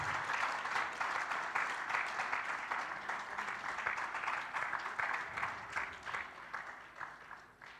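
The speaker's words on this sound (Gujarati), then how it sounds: "બધા ખૂબ તાળીઓના નાદથી હરિભક્તોને વધાવી લેશું આપણે" A gathered audience at a religious discourse claps warmly to welcome devotees, a dense sustained applause of many hands that gradually tapers toward the end.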